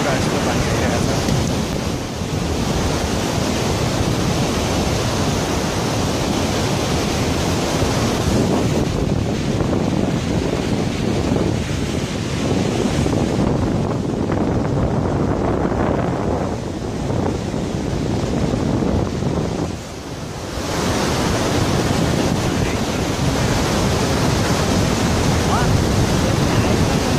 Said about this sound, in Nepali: चिसो हावा तल यहाँनिर